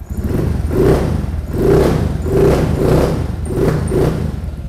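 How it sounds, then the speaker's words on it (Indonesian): A Honda Vario 125 scooter with a capsule-style aftermarket muffler revs in a steady series of deep, bassy throttle blips, each swell rising and falling about once a second, close and loud with no talking. "Knalpotnya suaranya ngebas, nggak terlalu berisik dengan model yang kapsul kita pasang di BMX."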